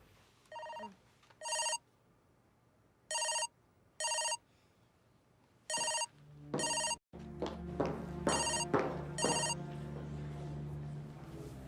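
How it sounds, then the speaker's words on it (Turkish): A mobile phone ringtone chimes in short repeated bursts, fairly loud and close, then keeps ringing over rustling and movement in an indoor room. "Telefonun çalıyor galiba."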